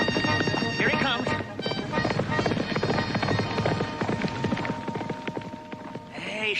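A horse galloping past in a Bonanza western, steady rapid hoofbeats running continuously at close range under a music score, with a brief voice near the start.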